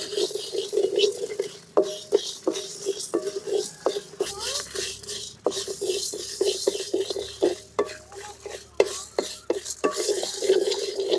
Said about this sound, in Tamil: நல்லா கருவாத வறுத்துக்கணும்.